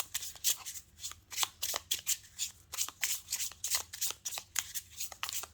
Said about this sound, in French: Et on tire 5 cartes.